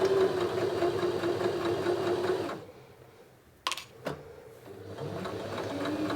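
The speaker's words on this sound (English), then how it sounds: "the needle feels like it's suddenly going through more layers of fabric than it should be and will make a noise" A domestic sewing machine runs steadily while stitching a French seam through layered fabric for an apron, then stops abruptly; after a near-silent pause two sharp clicks sound before a softer motor hum resumes.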